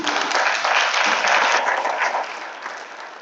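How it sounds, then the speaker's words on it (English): A roomful of people claps in a brief burst of applause that fades toward the end. "a round of applause"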